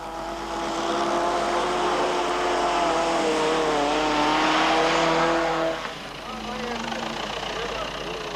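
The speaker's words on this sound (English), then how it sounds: "Others follow, including the Toyota Hilux of Koos Snyman and Piet Du Plessis" A Toyota Hilux race truck in the 1988 Baberspan 500 off-road race roars past with a loud, sustained engine note that rises and then drops away as it passes, with a commentator talking over it.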